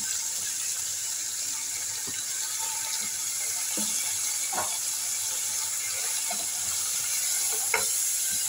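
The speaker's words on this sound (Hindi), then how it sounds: "जी कलर चेंज होने तक हम इसमें फ्राई करेंगे।" Beef, about 1.5 kg, frying in a pan, giving a loud, steady hiss throughout, with a few faint clicks and scrapes of stirring.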